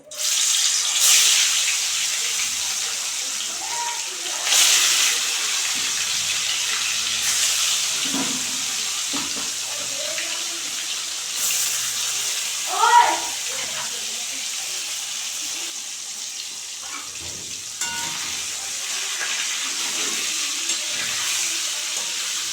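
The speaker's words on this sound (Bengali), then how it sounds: "তেল গরম হয়ে গেছে এখন আমি মাছগুলি দিয়ে দেবো" Glass fish frying in smoking-hot oil makes a long, steady broadband sizzle. Occasional clatters and faint, indistinct murmurs sit underneath, with one louder burst midway.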